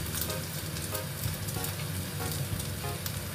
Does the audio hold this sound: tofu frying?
yes